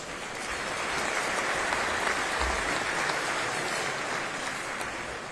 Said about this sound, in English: So please give a round of applause for all of my colleagues at Houston First.